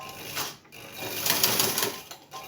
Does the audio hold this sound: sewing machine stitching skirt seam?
yes